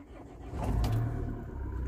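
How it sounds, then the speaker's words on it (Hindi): A Mahindra Scorpio's engine cranks and catches about halfway through, then settles into a steady low idle close by. "जब मैं स्टार्ट करता हूँ एक मिनट गाड़ी को"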